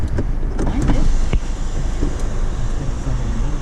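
The power moonroof on a 2010 Kia Soul slides open with a steady electric motor whir close by inside the cabin, joined by a few clicks and light interior knocks, with soft road noise underneath.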